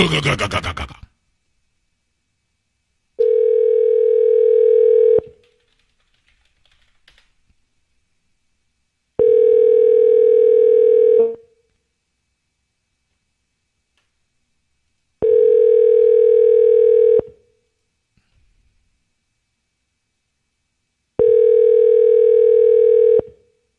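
Telephone ringback tone on a Google Voice call: four steady, fairly loud two-second rings spaced by roughly four-second silences, with no talk over it.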